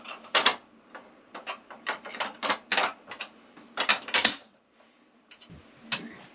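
A wrench bolts the handle onto a DE pool filter. Sharp clicking strokes come in uneven clusters, loud and close, then pause and finish with a last few clicks.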